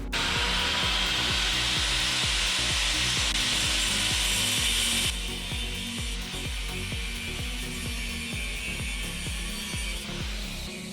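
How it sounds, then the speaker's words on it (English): Old drive chain being cut off a Ducati 696 motorcycle with a power tool, giving a loud, continuous grinding whine close by, with a rapid ratcheting pulse underneath that eases slightly partway through. "Just cutting my chain off."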